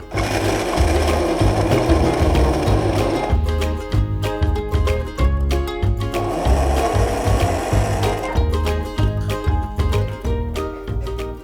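A food processor grinds baked walnuts into a fine meal for Chinese walnut cookies, a loud continuous motor whir with rattling chops that drops briefly in pitch and intensity in pulses, close up and without talk.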